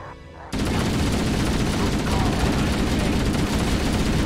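Gunfire in the shooter Halo: Combat Evolved, a sudden onset of loud, dense, continuous weapon fire and battle noise after a quiet opening half-second.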